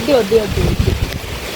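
Strong wind buffets the microphone in rumbling gusts during a bicycle ride, with a voice briefly audible at the start before the blustering takes over.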